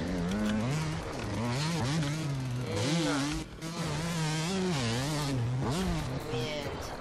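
A motorcycle roars by nearby, its loud buzzing engine wavering and surging in pitch for several seconds with no break.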